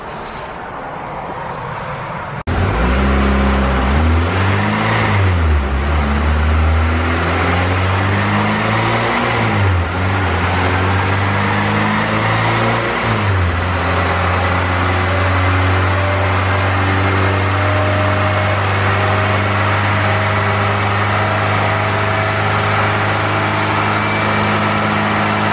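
A turbocharged Honda B18C GSR engine starts up after a brief quiet moment, then revs up and down several times before settling into a loud, steady high-rpm drone held for many seconds.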